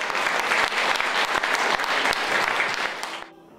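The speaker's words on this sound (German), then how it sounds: "Das Publikum honorierte die Darbietungen mit Applaus." Audience applause for stage performances at a regional event, a dense patter of many hands with some sharp individual claps, steady and close before stopping abruptly near the end.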